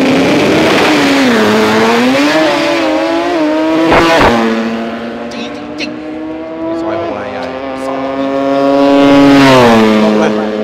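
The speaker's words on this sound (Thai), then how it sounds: "คันแรกเป็น KE ครับเครื่องยนต์โรตารี่ครับคันนี้แรงมาก" A Toyota KE race car fitted with a rotary engine roars loudly at a drag racing event, its high revs climbing and shifting in stepped surges, with a commentator talking over it.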